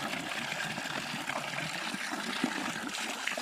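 Highland spring water trickling in a steady, unbroken flow, close and fairly loud, with no voices over it.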